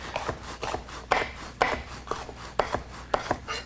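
A kitchen knife slicing vegetables into long thin strips on a cutting board for Thai noodles, with steady crisp chops landing roughly every half second, close and clear with no talk.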